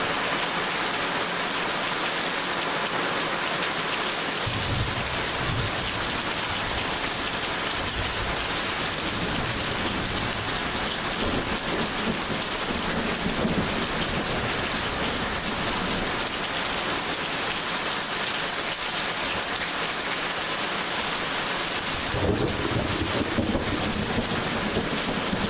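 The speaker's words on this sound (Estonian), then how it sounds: "Mida minutid edasi, seda tugevamaks muutus vihmasadu ja välke hakkas ka rohkem esinema." A downpour drums steadily through a thunderstorm in Simuna, Estonia, with deep thunder rumbling beneath it at intervals; no voices.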